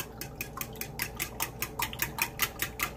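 Maida flour and milk being whisked in a cup, a quick steady run of light clinking spoon-on-cup strokes, close and regular, with no talking.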